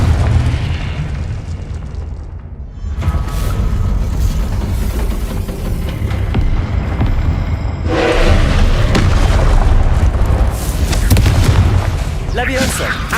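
Repeated Confringo spell blasts from the wizarding video game Hogwarts Legacy, booming explosions over a continuous rumbling game soundscape, with one sharp burst near the start and heavier bursts later; a voice speaks throughout.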